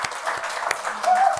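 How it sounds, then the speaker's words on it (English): An audience gives a round of applause, light scattered clapping, fairly soft, with a voice talking over part of it. "would you all just give me a round of applause"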